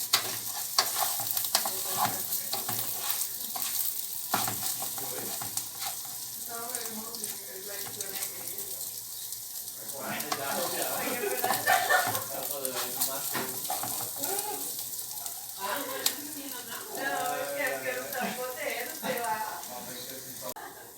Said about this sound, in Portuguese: Aqui é só refogar o arroz, como se estivesse fazendo um arroz convencional mesmo